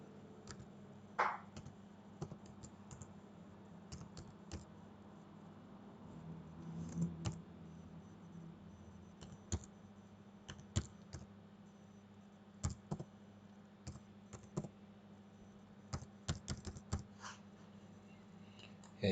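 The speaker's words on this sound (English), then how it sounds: "I'm going to go ahead and type in the key again." Keystrokes on a computer keyboard enter a product key during a Windows XP install, with scattered quiet clicks in irregular bursts over a steady low hum, fairly close and soft.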